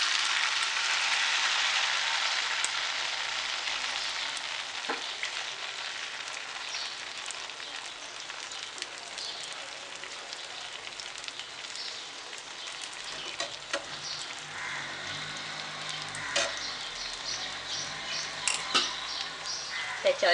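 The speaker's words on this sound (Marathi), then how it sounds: "त्याच्यामध्ये आपण हे आंबोळीचं मिश्रण ओतणार आहोत. आणि व्यवस्थित पसरवून घ्यायचे." Amboli batter of mixed vegetables poured and spread across a hot pan, giving a steady, close, even sizzle that dominates the start and eases slightly, with faint scraping and clicks later on.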